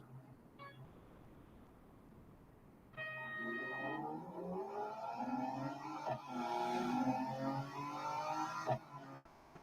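Race cars in the Real Racing 3 video game give off a faint whining engine drone that rises and shifts in pitch, swelling after a quiet start and running steadily to the end.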